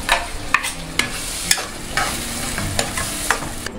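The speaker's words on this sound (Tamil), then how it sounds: "இப்போ மீன் குழம்புக்கு அரைச்ச மசாலா சேர்த்துக்கலாம்." Ground masala for fish curry frying in a pan, a steady sizzle broken by regular scraping strokes of a spoon stirring it roughly every half second, close and alone.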